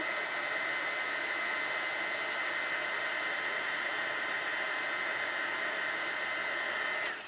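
A heat tool melts embossing powder with a steady, whirring hiss, like a hair dryer, that runs unbroken for about seven seconds before switching off abruptly.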